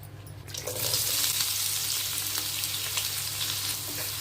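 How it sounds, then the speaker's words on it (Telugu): Onions hitting hot oil for a dried prawn curry, a sudden loud sizzle that swells within a second and holds as a dense, close frying hiss. "ఇగోండి, ఉల్లిపాయలు వేసుకున్నాం కదా, బాగా కలుపుకొని బాగా మగ్గబెట్టుకోవాలన్నమాట."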